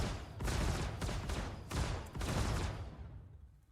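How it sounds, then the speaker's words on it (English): Ship-mounted distortion guns fire in repeated rapid bursts during space combat in a game's 4.5 PTU build, a dense, loud stream of shots with brief gaps, fading out at the end. "I need to keep shooting at it. Keep it distorted."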